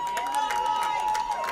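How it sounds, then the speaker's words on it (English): Fans cheer and applaud in the stands at a high school football game during a timeout, a steady crowd roar with scattered clapping and a sustained whistle-like tone running through it. "Gives their fans a chance to cheer him a little harder."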